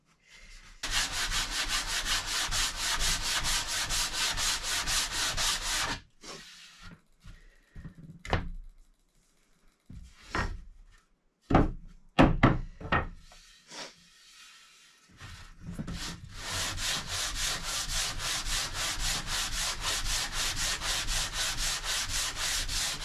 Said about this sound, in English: So I just gotta sand them out.